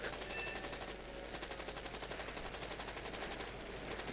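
Aircraft cannons fire in War Thunder as fast, evenly spaced bursts of sharp reports, heard in two long strings with a brief pause between them, fairly faint and without talk.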